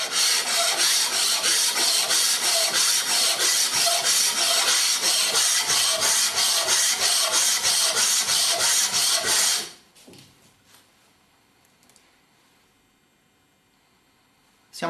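Hand plane sole rubbed back and forth on sandpaper over a glass plate, loud continuous rhythmic gritty scraping for about ten seconds, then stopping abruptly into near silence.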